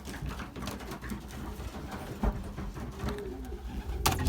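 A Belgian racing pigeon coos softly and repeatedly in a loft, with other pigeons and a steady low hum behind it.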